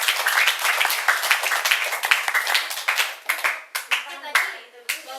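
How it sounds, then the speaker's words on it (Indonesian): Hands clap steadily in a room as an audience applauds a presenter at a religious education session, loud and dense at first, then thinning into scattered claps with voices in between. "Tepuk tangan buat Kak Salsa"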